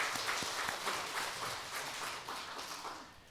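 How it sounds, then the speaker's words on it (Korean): A church congregation claps together after a choir's hymn at a Sunday worship service, giving soft, fairly distant applause with a loose rhythmic pulse that gradually tapers off. "우리 박수하겠습니다"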